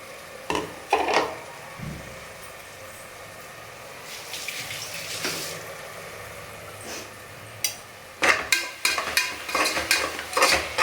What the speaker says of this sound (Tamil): நல்லா வதங்கின பிறகு இந்த பேஸ்ட்டை சேர்த்துக்கலாம்